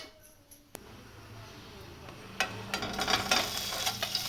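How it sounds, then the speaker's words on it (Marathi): Halved boiled eggs fry in hot oil on a tawa, a soft sizzle building into a louder crackle with scraping stir sounds near the end. "अंडे जरा थोडे फ्राय करून घेते."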